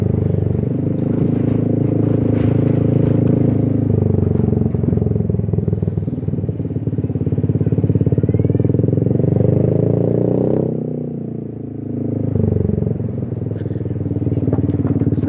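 Motorcycles, including a large-bodied scooter, ride past on a street, their engines droning and rising and falling in loudness near the listener, with clattering road noise mixed in.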